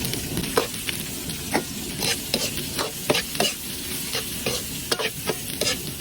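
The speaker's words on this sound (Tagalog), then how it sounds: "gisa-gisa lang po natin, kailangan igisa natin ng maayos para lumabas po ang kanyang aroma" Garlic, ginger and onion sauté in a pan with a continuous close sizzle, broken by frequent sharp crackles and scraping stir strokes at an uneven rhythm.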